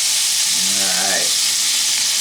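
Steak sizzles in a pan on the stove, a loud, dense hiss of frying fat filling the whole stretch up close, with a brief low warbling tone passing through midway.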